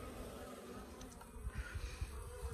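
Faint, close buzzing of bees around queen cages in a quiet setting, with a few soft bumps and rustles near the end.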